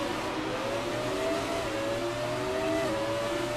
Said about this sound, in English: V10 engine in this car.